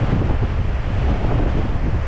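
The waterfall at Hell's Gill beck gives a loud, continuous rushing roar, dense and low-heavy, with some wind buffeting on the microphone and no voices.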